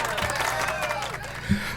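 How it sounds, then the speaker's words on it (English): Several people clap quickly and densely on a podcast awards episode, with a voice murmuring underneath and a brief louder thump near the end. "We'll clap it up for here. Clap it up."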